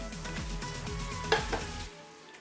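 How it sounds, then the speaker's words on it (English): A spoon stirs a thick mixture of flaxseed, psyllium husk and ground almonds in a bowl, making a quick run of close scraping, swishing strokes that stop abruptly near the end. "I just give that a little stir"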